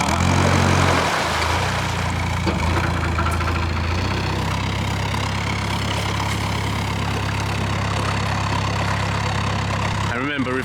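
A low narrowboat engine rumbles steadily at close range while reversing, a deep continuous drone that swells briefly near the end.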